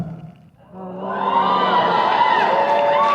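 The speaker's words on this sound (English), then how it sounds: "Everyone's cheering, but I don't know what that is." A convention crowd erupts into loud, sustained cheering and whooping that swells after a brief lull and stays strong to the end.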